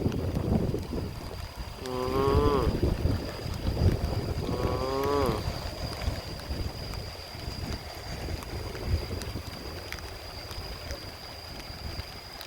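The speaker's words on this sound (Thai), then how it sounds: "ลมพัดเย็นสบายครับบ้านนี้ครับ" A cool wind blows steadily around a house in the countryside after a rain shower, making a low, continuous rushing noise against the microphone, with a person speaking briefly early on.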